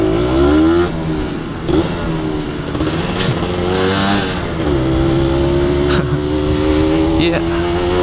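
A Kawasaki Ninja 150 RR sport motorcycle being ridden, its engine droning and revving loudly and close throughout, with a voice talking over it.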